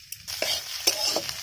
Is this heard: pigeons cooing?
no